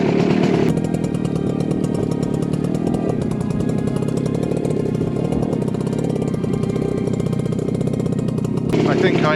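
A motorcycle rides a green lane along the top of a ridge at Leighton Bromswold, the engine a loud, continuous, rough rasp heard close up from start to finish.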